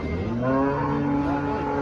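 A cow at a busy cattle market gives a single sustained moo that rises and holds, close and clear over a low background murmur.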